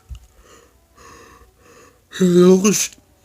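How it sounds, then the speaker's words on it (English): A long, breathy yawn rises near the end, voiced and drawn out, after a few soft breaths or murmurs. "sorry about the yawn."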